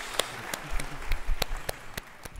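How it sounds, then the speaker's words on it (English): Scattered, sparse claps from an audience at a performing-arts gala finale, a handful of sharp separate hand claps rather than full applause, fairly quiet over low room murmur. "give them applause"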